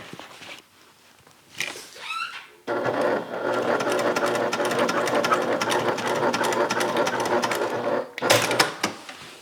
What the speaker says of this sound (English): I will go ahead and just take a little stitch right on top of my upper lining stitches